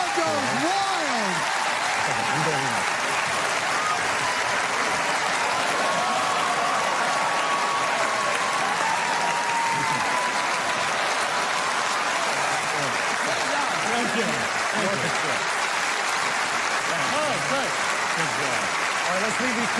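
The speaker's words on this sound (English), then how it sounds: "The crowd goes wild." An audience applauds and cheers continuously, a loud, dense roar of clapping and crowd noise that fills the whole stretch with voices mixed in.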